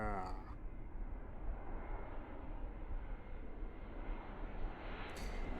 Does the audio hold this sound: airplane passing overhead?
yes